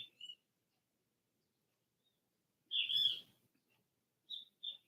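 Wild birds outside give brief, bright chirps: a short call at the start, a louder burst of twittering midway, then two quick chirps near the end, separated by quiet.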